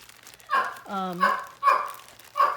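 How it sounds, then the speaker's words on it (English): A pet dog barks indoors four times in a fairly even rhythm, sharp and close, each bark clearly separated by short pauses. "When he starts barking, he keeps barking."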